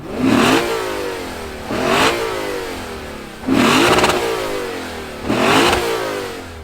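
The V8 engine of a 2022 Lexus IS 500 F Sport Performance sedan revs hard four times, each burst roaring up then easing back to a rumbling idle, loud and close.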